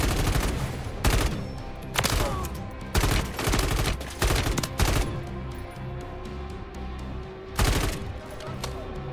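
Rapid bursts of gunfire in Call of Duty: Modern Warfare III Zombies crack repeatedly, loud and close, in quick volleys with brief gaps, backed by a steady synthetic background hum.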